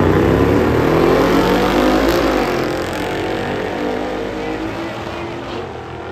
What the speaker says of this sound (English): Van Dusen, 67 Corvette. Love it. Early model Stingrays.